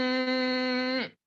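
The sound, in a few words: nasal humming imitating a mosquito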